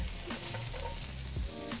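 Onions hit a hot plate and crackle into a loud, close sizzle, with light stirring noises over a brief, continuous fry.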